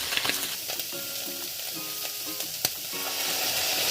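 Bopis, a Filipino dish cooked with ginger, garlic, onion, bay leaves and annatto, fries with a steady loud sizzle in a pan while a spoon scrapes and stirs through it in repeated strokes, with no voices.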